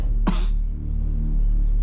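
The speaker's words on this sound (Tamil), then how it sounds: "காலையிலேருந்து ஒரே இருமல்." A man with a fever gives a single sharp, close cough, followed by a low steady hum in a Tamil thriller film scene.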